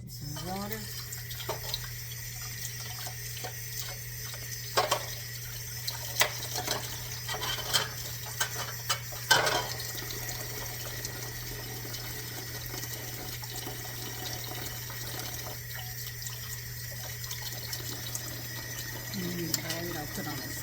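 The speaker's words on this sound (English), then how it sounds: "Put this in water." Tap water runs steadily into a sink while a part is set down in it, with a constant hum, intermittent clunks and splashes, and someone talking over it.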